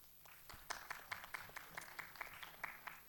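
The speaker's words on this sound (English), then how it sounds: "A round of applause for him, please." A small audience at a startup investor meet claps at a distance, the applause faint and thin, with individual hand claps standing out in an uneven rhythm.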